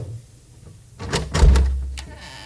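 A door creaks open, followed by a low thud and a rattle that fade out, as a sound effect in a vintage horror radio drama.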